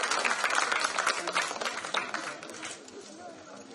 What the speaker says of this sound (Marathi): एकदा जोरदार टाळ्या रेणुका पांचाळ साठी झाल्या पाहिजे